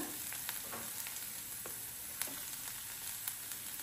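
Beetroot palya frying in a pan with tomato being added, a continuous close sizzle and crackle with occasional sharp spatter pops and light stirring, no voices.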